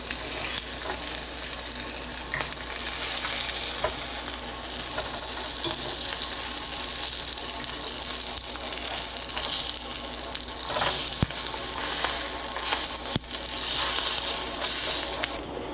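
Breakfast food frying in butter in a pan, a steady bright sizzle that runs unbroken and close for the whole stretch, with a couple of sharp little crackles near the end and no voices.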